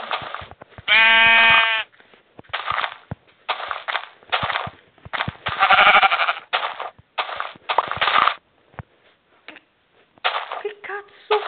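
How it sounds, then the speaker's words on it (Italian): Sheep bleating in the Minecraft video game, a loud wavering baa near the start followed by a string of sharp clicks, thumps and other game sound bursts, with more bleat-like calls later on. "Io ho sentito una pecora."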